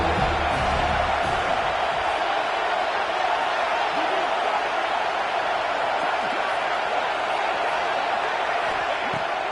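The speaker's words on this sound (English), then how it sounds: "This crowd rising up, sensing that its defense needs some help." A crowd at a college football stadium during a Michigan game rises in a steady, loud roar of cheering before a third-down play, a constant wash of crowd noise with a commentator talking over it.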